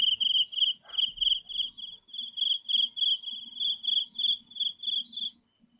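A mimicry artist imitates a cricket with his voice, producing a long run of evenly spaced, shrill chirping pulses, clear and close with no other sounds.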